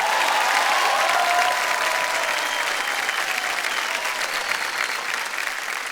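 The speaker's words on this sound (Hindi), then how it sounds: "जोरदार तालियां बज जाए इनके लिए" A studio audience on the Hindi game show Kaun Banega Crorepati season 13 bursts into loud, dense applause that holds steady for six seconds with no talk over it.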